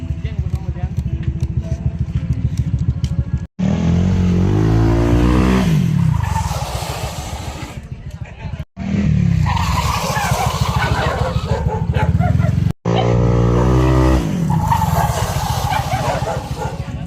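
A Honda Click 160 scooter with a newly fitted 240mm rear disc brake rotor skids repeatedly, loud close bursts of engine and tire noise broken by short gaps, with people talking over it.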